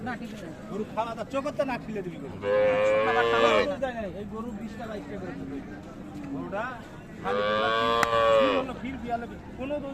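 A Friesian dairy cow with a calf at a village cattle market in Dinajpur lows twice, each a long loud moo, with busy crowd chatter and talking around it throughout.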